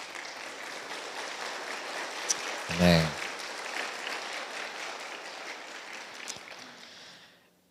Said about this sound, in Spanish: Démosle palmas a Jesús.